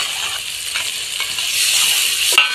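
Tomatoes hitting a hot frying pan of oil in a home kitchen, a bright steady sizzle that rises slightly toward the end, with a few soft clicks of stirring and a small metallic tap near the close.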